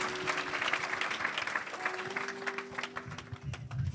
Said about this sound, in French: Give a hand clap to the Lord because he speaks.